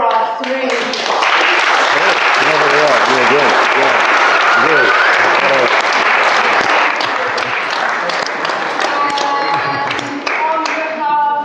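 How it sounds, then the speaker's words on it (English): An audience at an aged white port wine masterclass breaks into loud, sustained applause, dense clapping from many hands that fills the room with a few voices mixed in. "a big round of applause for our three"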